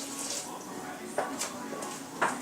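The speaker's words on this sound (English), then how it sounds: "the idea to cover the squash with plenty of water" Water runs and splashes over squash in a cooking pot as a steady wash, with a few sharper splashy bursts, under a person talking.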